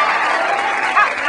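A studio audience at a talk-show monologue claps in a brief, dense burst of mixed hand claps, steady and fairly loud throughout.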